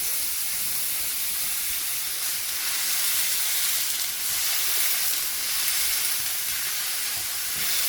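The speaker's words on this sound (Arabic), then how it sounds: "دوك المقله تاعنا سخنت، نحطوا هذاك اللحم المفروم نشويوه" Minced meat sizzles loudly in a hot dry pan with no oil, a continuous bright hiss and crackle with no voices.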